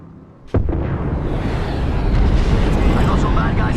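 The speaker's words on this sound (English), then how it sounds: "Signaling an airstrike." Airstrike explosions in a shooter video game: a sudden heavy blast hits after a brief quiet moment, then a loud, dense roar of rumbling detonations and debris continues steadily to the end.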